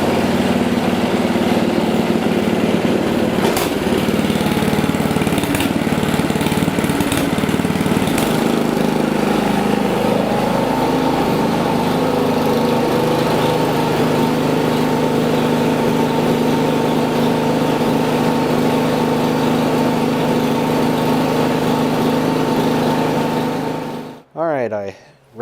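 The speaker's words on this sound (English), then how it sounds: "So the next thing it says to do is to engage the auger and break in the belts for 15 minutes." An Ariens Deluxe ST24LE 24-inch snow blower runs steadily with its auger engaged during belt break-in, a loud continuous engine drone with mechanical whine that holds for most of the stretch, then cuts off abruptly near the end.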